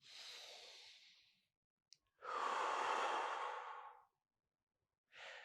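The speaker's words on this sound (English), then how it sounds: "Breathe in." A person breathes in and out deeply during a short foot exercise: a long airy exhale, a short pause, a louder extended breath, then another starting, close and alone.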